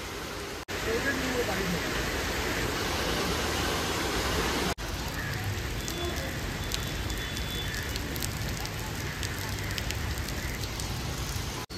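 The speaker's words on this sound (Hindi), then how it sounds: "वो पूरा बारिश हो गया पीछे" Heavy rain falling in a dense, continuous hiss close by. The sound is steady throughout and cuts out twice briefly, with no clear talk.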